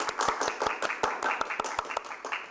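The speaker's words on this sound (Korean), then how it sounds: "강의를 진행해 주신 이영희 강사님께 큰 박수로 감사의 인사를 드리겠습니다" Lecture audience at an online parents' education session claps for the instructor, a short burst of distinct, fairly close hand claps from a small group.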